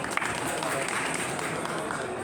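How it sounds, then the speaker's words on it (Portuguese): Applause for a speaker at a smart-cities panel discussion, a soft, steady spread of clapping heard at a distance with a faint crowd murmur beneath it. "Palmas para ele, né?"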